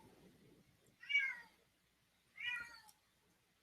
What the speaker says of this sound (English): you hear my cat crying